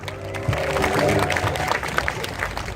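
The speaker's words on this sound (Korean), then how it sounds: "큰 박수로 모시겠습니다" An audience at a Korean labor union rally claps to welcome a speaker, a moderate burst of applause mixed with crowd murmur and a voice over the top.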